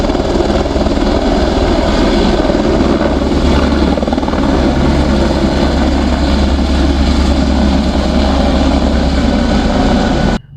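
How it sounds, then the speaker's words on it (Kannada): A helicopter flying near the Kedarnath temple in the mountains, its loud steady rotor and engine roar continuous and close throughout before cutting off abruptly at the end. "ಹೆಲಿಕಾಪ್ಟರ್ ಹೋಗ್ತಾ ಇದೆ."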